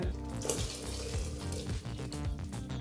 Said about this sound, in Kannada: ನಂತರ ಈಗ ನೀರನ್ನು ಸೇರಿಸ್ಕೋಬೇಕಾಗತ್ತೆ.